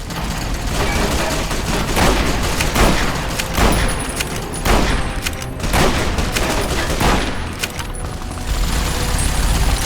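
Brush gun fire in Fallout New Vegas, loud repeated lever-action rifle shots at an irregular rhythm over a steady background of game noise, each a sharp broadband crack.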